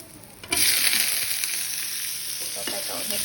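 Fifteen eggplants drop into a pan with only a little oil and start frying, giving a sudden loud sizzle that holds steady and close, with a few stirring scrapes and no talking.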